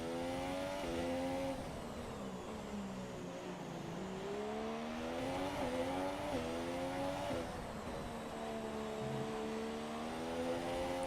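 A Williams Formula 1 car's engine howls steadily in the F1 2017 game, racing at Singapore, with the pitch rising and dropping through gear changes and corners in a continuous, close, loud drone without any talk.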